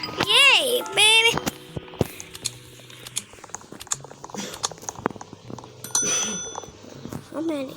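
A bright bell dings in an animal hospital video game, heard as a short ringing burst amid game sounds, light taps and a lively voice talking at the start.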